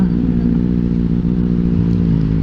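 A Triumph Trident 660cc motorcycle engine runs with a loud, steady, close-up drone that holds an even pitch throughout and is heard with no voices.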